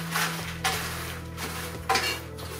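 Croutons tossed with dried garlic in a pan, a utensil scraping and clinking against the metal in three or four distinct strokes over a low steady background hum.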